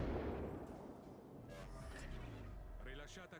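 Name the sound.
naval ship guns firing shells in World of Warships: Legends video game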